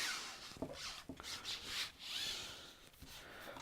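A squeegee rubs over a chalk paste stencil to press out bubbles, a series of close, soft scraping swipes with brief gaps between strokes, alone without talk.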